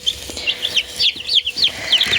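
Shrill, high chirps from week-old chicks repeat rapidly and steadily, several peeping close together over a faint background murmur.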